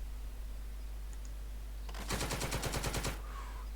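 Rapid burst of automatic gunfire in a turn-based tactics video game, a quick run of about ten evenly spaced shots lasting roughly a second over a faint background hum.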